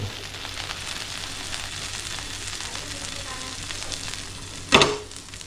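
Food shallow frying in oil in a home kitchen, a continuous close sizzle with a brief louder clatter near the end.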